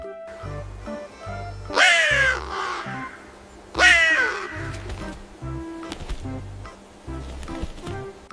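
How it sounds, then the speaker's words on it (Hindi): Crow cawing, two loud harsh calls about two seconds apart over a rhythmic musical backing, followed by fainter call fragments. "क्रो को हिंदी में कौवा कहते हैं।"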